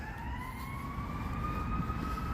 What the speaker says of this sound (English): Here's the sirens.